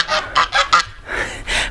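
Geese honk loudly and close by in a garden, a rapid run of four honks followed by two longer, drawn-out calls with no talk over them.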